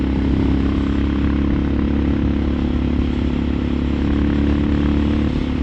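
A Suzuki DR650 dirt bike engine pulls hard under acceleration on a test ride, giving a loud, steady, close-up drone with constant thrumming and no break in power for the whole stretch.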